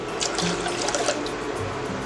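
Water gushes and splashes briefly as a cup of it is poured into a pressure cooker for sweet pongal.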